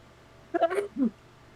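During a tabletop role-playing game session, someone lets out a single sharp sneeze with a short second burst, close by in an otherwise quiet room.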